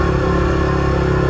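Yamaha R15 V3 motorcycle fitted with an aftermarket exhaust, running steadily at close range with a loud, dense, droning engine note and no voices.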